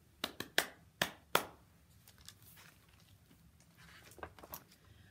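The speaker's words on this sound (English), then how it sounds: "I am a seal and I clap my hands" Several sharp hand claps in quick succession at a children's storytime, followed by softer scattered taps and rustling, close and fairly quiet with no talking.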